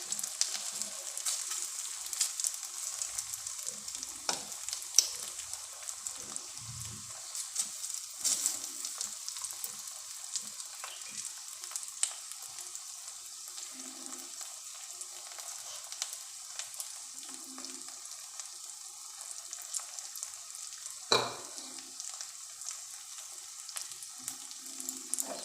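Pizza batter spread thin in a kadai over low gas heat, giving a faint, steady sizzle and light frying crackle with a few soft scraping touches, quiet and continuous throughout.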